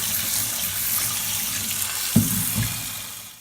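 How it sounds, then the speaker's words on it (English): Steady running tap water splashes into a sink, with a couple of brief clatters of chilies being rinsed under the stream. "Again wash them under running water."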